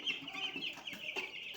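Chickens on a poultry farm cluck steadily in a busy, close chorus of overlapping calls with no talking.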